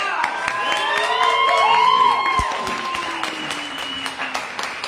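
An audience at an open mic poetry event in Toronto applauds steadily with a dense wash of clapping and some cheering, with tonal sounds layered over the clapping.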